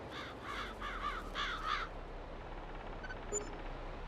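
Crows caw in the video game Farming Simulator 22, a run of about five harsh, rasping calls at moderate distance over a steady low background hum, then fading into quiet ambience with a faint chirp.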